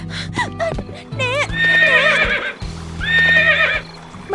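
Cartoon white horse giving several loud, close whinnies and neighs in separate bursts, with a few hoof clops between them and no talk.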